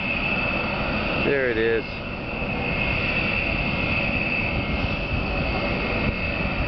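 A model RC B1 jet bomber taxiing on the ground gives off a continuous, droning engine whine that stays steady and fairly loud. Someone speaks briefly over it.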